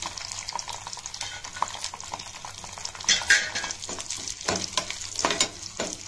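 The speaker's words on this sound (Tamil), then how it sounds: "முந்திரி பருப்பு அதில் போட்டு வறுக்கணும். இந்த கிறிஸ்மஸ் பழத்தையும் அதில் போட்டு வறுத்து எடுத்துக்கணும்." Cashews and raisins fry in ghee for Kerala ada payasam, giving a soft sizzle broken by scraping stirs and light clinks of a spoon against the pan, close and without talk.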